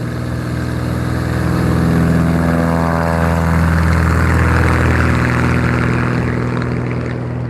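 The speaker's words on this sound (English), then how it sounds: "The Debonair, of course, being the straight-tailed Bonanza, very popular Beechcraft aircraft." Beechcraft Debonair, the straight-tailed Bonanza, droning steadily as it flies near Nevada County Airport in Grass Valley, California; a loud, continuous propeller-engine hum holds throughout with no talk.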